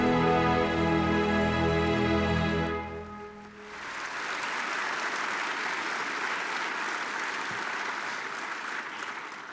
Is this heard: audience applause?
yes